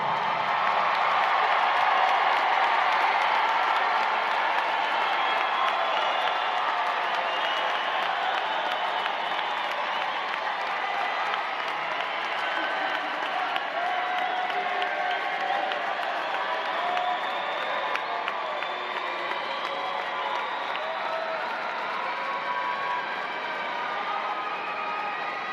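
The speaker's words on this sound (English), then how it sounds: "Look for your family and loved ones in the audience and salute them with your applause" Graduates at a Florida State University summer commencement ceremony applaud their families in a large hall, a long, dense, even roar of clapping mixed with cheers and whoops that holds steady throughout.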